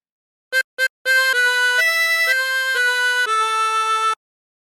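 A chromatic harmonica plays a phrase of Bella Ciao, starting with two short clipped notes and then a run of sustained, clear melodic notes. It sounds close and solo against silence.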